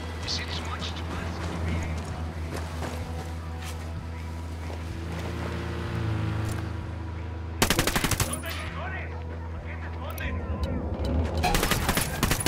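Rapid machine-gun fire in Ghost Recon Wildlands rattles in long bursts over a steady engine drone, with sharper volleys later; a voice speaks over the shooting.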